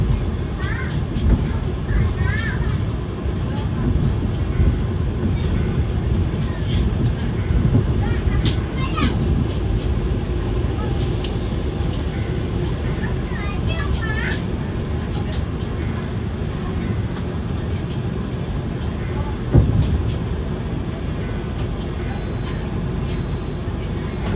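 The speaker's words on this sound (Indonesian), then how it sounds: "Pukul 18:25 kereta api Bangunkarta tiba di stasiun Jatinegara." The Bangunkarta passenger train arriving at Jatinegara station gives a steady low rumble with occasional clanks and squeals, while children and other people talk nearby.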